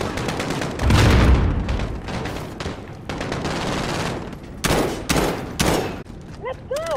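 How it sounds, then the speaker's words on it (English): Gunfire rings out in Call of Duty Modern Warfare: a loud burst of shots near the start, then scattered cracks and a few sharp reports later on, layered over the game's background noise and music. "Someone's shooting."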